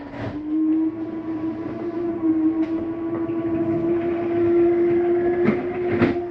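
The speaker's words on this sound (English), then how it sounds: "That's just the slide mechanism saying that it's in all the way." The slide-out mechanism of a 2023 Flagstaff Superlite 29RBSD RV, fully retracted: a steady mechanical whine with a droning hum, punctuated by occasional clunks and metallic knocks, grinding on for several seconds at close range.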